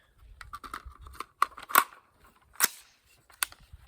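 An AR-15 is unloaded and cleared with a string of close mechanical clicks and rattles from its action and magazine. Sharper clacks stand out, near the middle and toward the end, and no one talks.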